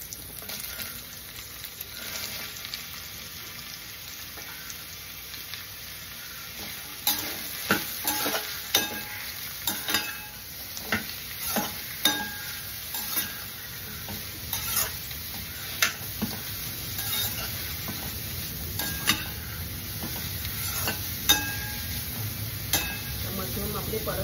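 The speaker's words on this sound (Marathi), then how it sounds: "त्याच कढईत आपल्याला हे मशरूम पण परतून घ्यायचे।" Mushrooms sauté in oil in a kadhai for a vegetable kurma: a soft, steady sizzle with close, repeated scraping and knocking strokes of stirring that grow more frequent partway through.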